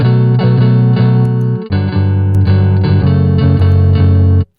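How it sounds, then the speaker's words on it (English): An emo-style guitar loop plays loud and sustained through a gritty tape distortion effect, with ringing chords shifting every second or so and cutting off abruptly at the end. "just a distortion, a tape distortion to give it a little bit of grunge, make it sound a little more textured"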